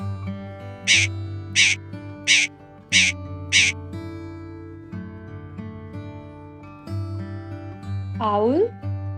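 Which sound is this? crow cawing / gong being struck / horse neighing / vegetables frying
crow cawing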